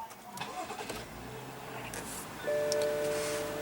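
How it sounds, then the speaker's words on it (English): A 2015 BMW 535i's 3.0-liter turbocharged inline-six engine turns over and settles into a steady idle with a low, even hum, close by, with a faint whine rising near the end. "what you're hearing is that 3-liter inline 6-cylinder turbo powertrain"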